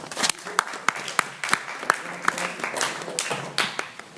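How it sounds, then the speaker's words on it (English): A room of people at a Friendship Circle evening event gives a round of applause: dense, steady clapping with sharp individual claps standing out, lasting the whole few seconds, close and fairly loud. "So give yourselves a round of applause."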